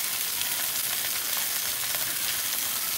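Pork chops fry in a pan with a steady, dense sizzle and crackle, close and even throughout with no talking.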